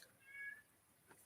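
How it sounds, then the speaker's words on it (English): A black cat gives a single soft, faint meow close by in a quiet room. "One second, that's my cat, my black cat."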